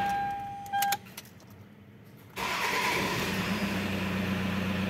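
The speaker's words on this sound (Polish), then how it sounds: "Zauważyliście, że całkiem rozrusznik inaczej kręci." A brief starter whir with an unusual cranking sound, a quiet pause, then a Toyota RAV4 2.0 D4D diesel engine with a starting problem catches and settles into a steady, rumbling idle close by.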